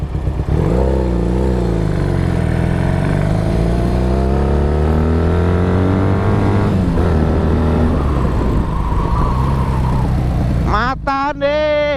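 A two-cylinder motorcycle revs hard while riding, its loud engine climbing through repeated rising sweeps, dipping briefly, then pulling again before a sharp, higher-pitched burst near the end.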